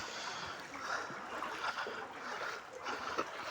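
Someone wades through knee-deep flood water during rain, giving a faint, continuous sloshing and splashing with soft irregular swishes against steady background hiss.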